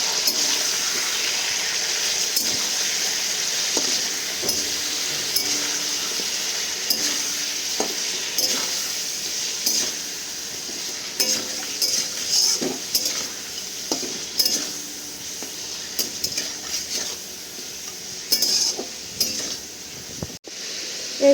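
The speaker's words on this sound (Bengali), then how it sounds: "এবার ভালো করে চিকেনগুলোকে আমি ফ্রাই করে নেব।" Chicken pieces fry in oil with salt during a dahi chicken preparation, a steady sizzle with frequent close scraping and stirring clinks of a utensil against the pan, no talk.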